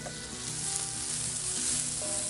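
Broccoli and white onions sizzle steadily in a Lodge cast iron pan over a fire, a loud, continuous frying hiss with no talk.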